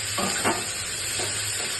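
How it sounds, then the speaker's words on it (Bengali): Brinjal frying in a pan is stirred, giving a steady close sizzle broken by a few short scraping strokes, with no voices. "এইবার বেগুনটা নাড়ানাড়ি করছি"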